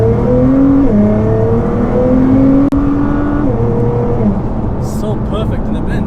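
A 700 bhp Nissan GTR accelerates hard, its engine climbing through rising revs with quick gear changes, loud and close from inside the car, fading toward the end as faint voices come in.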